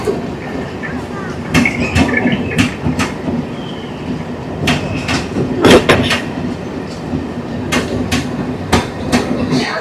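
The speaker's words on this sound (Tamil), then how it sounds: "பேசஞ்சர் ட்ரெயின் இருக்குது." A passenger train on the Puri to Khurda Road line rolls past with a rhythmic clickety-clack of wheels over rail joints, loud and close, over a steady rumble.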